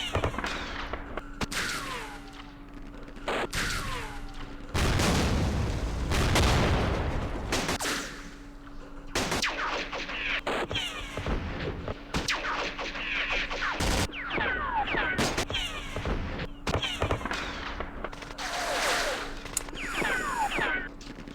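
Machine gun fire in the Campaign Series West Front war game sounds as rapid crackling bursts and sharp gunshots, some loud and close and others more distant, with brief spoken remarks between them.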